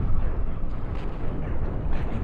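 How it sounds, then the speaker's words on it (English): Disruptor weapons firing aboard a ship in the space combat game Cosmoteer, a loud, dense wash of rumbling blasts and crackle that runs continuously without pause. "A good disruptor hit there, neutralizing half of both shield generators. Disruptors firing"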